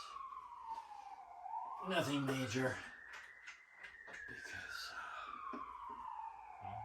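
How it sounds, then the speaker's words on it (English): A wailing siren rises and falls in pitch, passing fairly close, while a person talks over it. "Wow, there's a siren."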